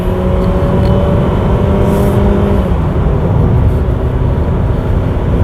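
A Mitsubishi Xpander 7-seater MPV accelerating hard to overtake on an open road, its engine droning loud and steady from inside the cabin and climbing gradually over a constant rush of road noise.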